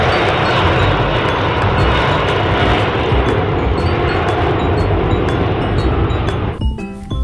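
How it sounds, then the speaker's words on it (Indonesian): A toy airplane gives off a loud, continuous roaring engine hiss that holds steady close to the microphone, then cuts off abruptly near the end. "ada pesawat terbang"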